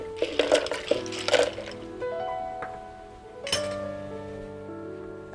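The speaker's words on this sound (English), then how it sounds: "Let's put a few ice cubes inside." Ice cubes drop with a few bright clinks into a glass of beetroot and carrot juice topped with parsley, clustered at the start, then sustained background music carries on.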